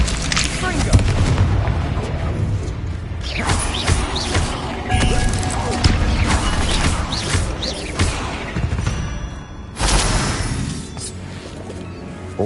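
Repeated fiery blasts and booming impacts from the Confringo fire spell in Hogwarts Legacy, loud and busy, rising and falling over a steady layer of game noise.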